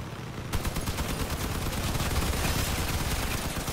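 Rapid gunfire in the Crossout vehicle combat game rattles in a fast, dense burst that starts suddenly and keeps hammering without letup.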